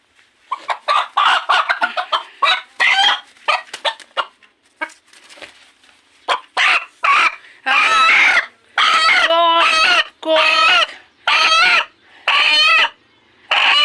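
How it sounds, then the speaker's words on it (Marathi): A rooster clucks and squawks loudly close by in repeated bursts, and its calls grow longer and more drawn out toward the end. "आणि आता कोंबडा तुम्हाला दाखवते की,"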